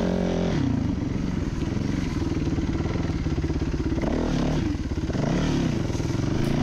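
Hard enduro dirt bike engine revving loudly and steadily on a trail over logs, with clattering and scraping as the motorcycle climbs obstacles, close and continuous throughout.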